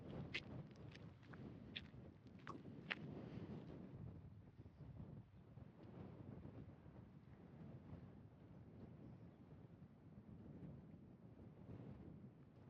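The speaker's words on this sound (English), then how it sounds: "Oh, it is so windy." Strong wind buffets the microphone outdoors on an alpaca farm at the Cleveland Estate Winery, a steady loud low rumble running throughout, with a few faint sharp knocks near the start.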